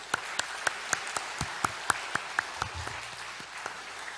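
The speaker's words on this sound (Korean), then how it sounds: "우리 하나님께 영광의 박수 올려드리겠습니다" A church congregation at a Sunday worship service claps in praise, giving a sparse, fairly quiet round of individual claps with distinct separate strikes at a steady pace and no talking.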